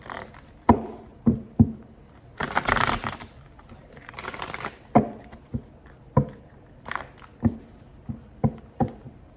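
A run of sharp papery flicks and taps from tarot cards being shuffled, with a couple of longer riffling bursts, close and fairly quiet.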